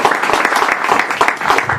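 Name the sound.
press conference audience applauding Steve Cunningham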